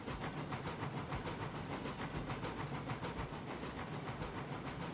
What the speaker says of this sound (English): This is a rather heavy train.